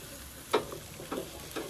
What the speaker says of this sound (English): We are basting the meat.